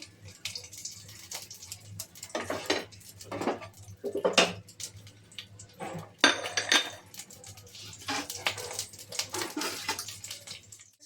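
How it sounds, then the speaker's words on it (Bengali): Half a teaspoon of black cumin seeds and two green chillies crackle in hot oil as a tempering for hilsa fish curry, with irregular bursts of spluttering and a few utensil clinks against the pan. "তেলে দিয়ে দেবো এটা। সামান্য একটু ভেজে নেব।"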